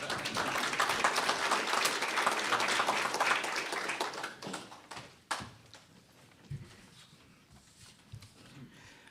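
Applause from the audience at a press conference for the Magic City Classic football game. Dense clapping fills the room, then thins out to a few scattered claps and fades.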